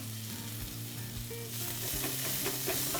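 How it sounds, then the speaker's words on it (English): Cumin seeds, ginger paste and shredded onion frying in hot oil for lasooni aloo, a steady loud sizzle with crackling spits and a low hum beneath, swelling slightly partway through. "Once the oil is nice and hot, I'm going to add in a teaspoon of cumin seeds, 1 teaspoon of ginger paste and 1 shredded onion."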